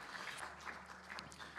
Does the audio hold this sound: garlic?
no